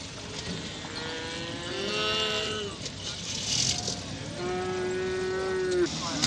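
Bull calves mooing at a livestock market in Füzuli, two drawn-out calls over a steady crowd murmur and faint talk nearby.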